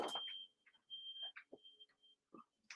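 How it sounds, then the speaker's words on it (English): A smoke alarm chirps with a steady high-pitched tone, sounding several brief beeps in a loose pattern among quiet gaps, fairly clear and alone without talk. "Second alarm going off."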